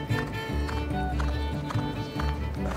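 Thoroughbred hooves beat on a race track in a steady rapid clip-clop rhythm, fairly loud and close over a constant low rumble with faint background noise.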